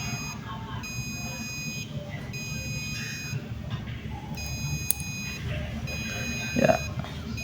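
A NodeMCU temperature alarm buzzer sounds a thin, high electronic tone in repeated bursts separated by short gaps, over a low background murmur.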